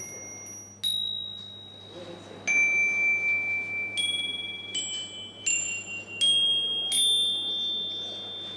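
A locally cast metal bell from a small regional foundry, struck several times in sequence, each strike giving a bright ringing tone that decays slowly and overlaps the next, loud and close with no voices.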